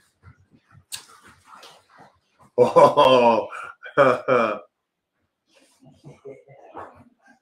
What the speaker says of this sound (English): we got dog playing here